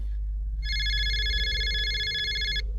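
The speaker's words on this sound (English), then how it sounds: "The phone rang again." A telephone rings with one steady electronic trill lasting about two seconds, clear and close over a constant low hum, then stops abruptly.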